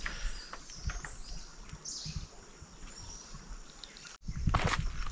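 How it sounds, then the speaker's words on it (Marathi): Morning birdsong in a dense forest at a campsite, with scattered chirps and calls over a steady outdoor background and some rustling, growing louder near the end. "मस्तपैकी इकडे पक्ष्यांचा आवाज येतो ह्या साईडला बघा"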